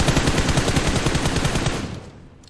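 Rapid automatic gunfire from PUBG Mobile, a fast steady burst of loud shots close up that runs for about two seconds before dropping away into quiet.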